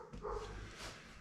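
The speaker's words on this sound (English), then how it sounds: "Sorry about the dogs, man. They just never stop." Dogs bark in the background, a short faint bout of barking and yipping at a distance with no talk over it.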